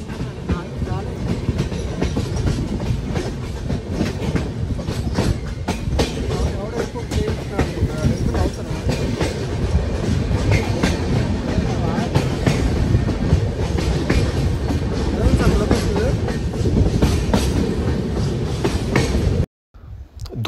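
A train runs through the Goa ghat section toward Dudhsagar waterfalls with a steady, close rumble and rhythmic wheel clatter that persists throughout, then cuts out briefly just before the end.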